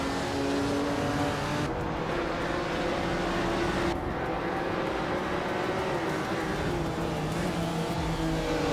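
Classic race cars, Jaguars, Maseratis, Mercedes and Ferraris, roar around a tight-cornered track in a steady, loud drone of engines, with rising and falling revs and cars sweeping past throughout, no voices.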